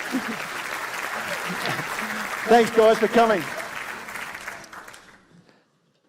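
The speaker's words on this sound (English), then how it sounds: "Big round of applause for the people" Applause and cheering from an audience at a book launch show greeting a family, steady clapping under a voice with a burst of whoops in the middle, then fading out.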